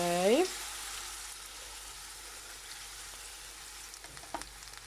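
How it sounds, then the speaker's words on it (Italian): Kimchi pancake batter fries in a pan with a steady, soft sizzling hiss, preceded by a brief tonal squeak at the start and a few faint clicks later. "Ho un po' di paura nel versare questa cosa così liquida dentro, però proviamoci."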